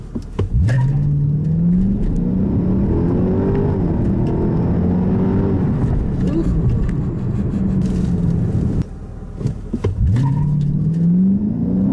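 A powerful 5.6-litre V8 engine in a 2018 Infiniti Q70 revs and accelerates hard from a standstill, rising in pitch through the gears, loud and close, with a brief gear change near the end.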